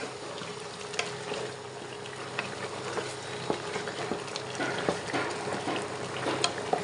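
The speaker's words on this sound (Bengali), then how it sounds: "এখন একটু ভালো করে নেড়ে নিব।" Bottle gourd curry with fresh coriander leaves bubbles and sizzles softly in a pan while a spoon stirs it, giving quiet scrapes and light clicks over a low simmer, with no talking.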